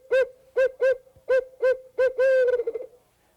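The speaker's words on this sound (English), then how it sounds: "he makes the sound of the owl by blowing into it like this" A hunter's owl call device is blown in a series of about seven hooting notes, the last drawn out and wavering into a trailing quaver, loud and close with no other sound.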